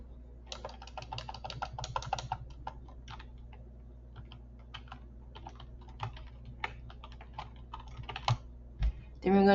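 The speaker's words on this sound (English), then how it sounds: "I'm going to type out the word alligator." Someone types on a computer keyboard, producing quick irregular clicks in bursts that thin into sparse single taps, with a low steady hum underneath and a couple of heavier knocks at the end.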